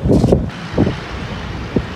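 Strong wind buffets an outdoor microphone during kite flying, with loud, gusty rumbling bursts that rise and fall and then ease into a steady low roar.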